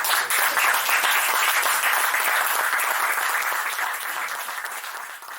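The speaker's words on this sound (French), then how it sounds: "j'aimerais qu'on les applaudisse déjà" Audience applause fills the room at an MMA press conference for the SFC 4 event, a dense, steady wash of clapping that holds loud throughout and eases slightly toward the end, with no talk over it.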